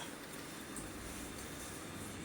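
A London tram running on rails between Beckenham Junction and Wimbledon gives a steady, broad rumble of wheels and motor, continuous and moderately close, with no talk.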